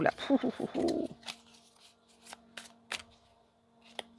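Tarot cards being shuffled by hand, a run of crisp riffling and flicking snaps spaced out over quiet room tone after someone speaks briefly at the start.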